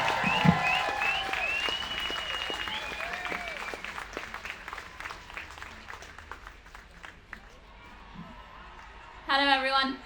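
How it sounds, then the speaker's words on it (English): Crowd applause at an outdoor March for Life rally in Parliament Square, London, a steady dense clapping over a murmuring crowd with whistles and cheers early on, fading slightly before a voice speaks up close at the end. "Please give her a big round of applause."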